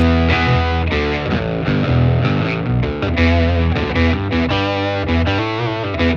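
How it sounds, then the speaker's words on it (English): Electric guitar run through a lower-octave pedal feeding a chain of drive and distortion pedals, playing a loud, thick, sustained riff with a deep sub-octave layer under the fuzz, continuous for several seconds with no talk. "So that lower octave is being added into all the distortion."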